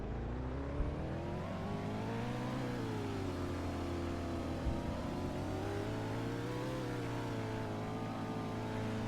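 A car engine in the video game Just Tornadoes drones and revs steadily with rising and falling pitch, a continuous mid-range motor hum that stays close and fairly even throughout.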